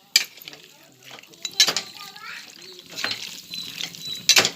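Village-style country chicken frying in a pan for sambar, stirred by hand with clinks and scrapes of a utensil against the pot, soft sizzling underneath, and a few sharp louder strikes.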